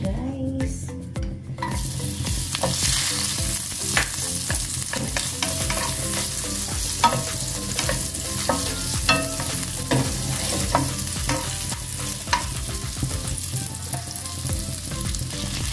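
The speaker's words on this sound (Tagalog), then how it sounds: "Gisa-gisa na guys." Steady sizzling of food sautéing in a pan for a Filipino dish, with repeated scraping and clinking of a utensil stirring against the metal, close and continuous with no talking.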